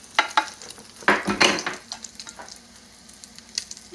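Fish frying in a pan, heard close up as crackling and spitting oil in irregular bursts, louder at first and then settling into a quieter sizzle with scattered pops.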